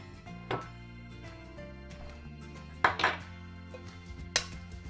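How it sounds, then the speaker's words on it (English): Eggs added to a mixing bowl for pumpkin dog treats, a few faint clinks and knocks of shell and utensil against the bowl spread out over quiet kitchen background, no talking. "So I'm just gonna add my eggs first."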